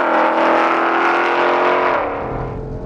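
A 2020 Ford Mustang Shelby GT500 accelerates hard on a track, its engine a loud, close, sustained roar that holds steady before the pitch and volume drop away near the end.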